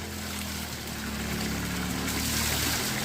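Water pours steadily into cans in a Himachal mountain village, a continuous rushing flow with a low drone, loud and close, with no break over the few seconds.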